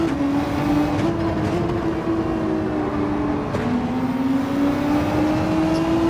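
Gran Turismo 7 race car engine at the Red Bull Ring, a GT3-class machine holding a steady, loud high drone with slight pitch shifts as it sweeps through corners, continuous and unbroken.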